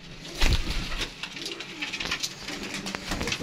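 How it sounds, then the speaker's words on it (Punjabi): Pigeons cooing at a breeder's loft in Faisalabad, low repeated coos among a dense, noisy flock, steady throughout with a few louder bursts. "ਬੜੀਆਂ ਨੇ ਮਸ਼ਹੂਰ ਕਬੂਤਰ ਨੇ ਫੈਸਲਾਬਾਦ ਦੇ"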